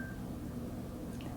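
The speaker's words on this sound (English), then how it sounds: "Sorry about the beep, that was my phone." A single short electronic beep from a mobile phone, heard briefly near the start against a low, steady room hum.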